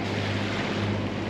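Sailboat at sea off Majorca motoring under engine with the genoa set in light wind: a steady low engine drone with a constant hum, under a broad rush of wind and water, unbroken and fairly loud.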